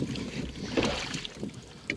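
Small waves lapping against a rowing boat on open water during spring trolling for pike and zander, soft irregular splashes and slaps close by, mixed with light wind noise on the microphone.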